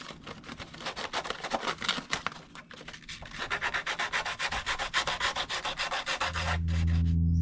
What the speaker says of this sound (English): the plan is I'll sand it